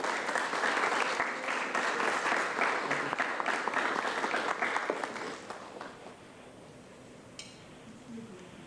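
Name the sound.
audience applause at county board meeting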